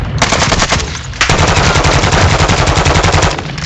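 Loud automatic gunfire in Call of Duty Modern Warfare 2 rattles off in rapid bursts, with a brief pause before another long, sustained burst, close and dominant with no talk.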